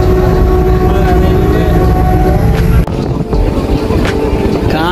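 Train ride on the railway up to Ooty, with a steady, loud rumble of the moving train and wind buffeting the microphone throughout, a brief dip near the middle, and no clear talk.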